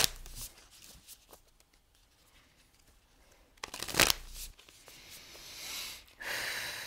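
A spirit animal oracle card deck being shuffled by hand, giving soft riffling bursts, then a louder snapping shuffle near the middle and a final flurry, close and fairly quiet, with no talk.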